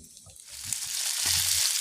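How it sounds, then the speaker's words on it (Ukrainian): Faint sizzling and crackling of sausages frying in a pan, a soft steady hiss with light pops, no voices. "Тут смажиться."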